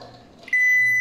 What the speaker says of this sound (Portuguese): Agora eu vou ligar o micro-ondas